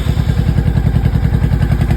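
A 1986 Honda VT700C Shadow V-twin motorcycle with an aftermarket exhaust, warm from a recent ride, idles after a hot start, a loud, close, steady lumpy thumping pulse with slight mechanical clatter throughout.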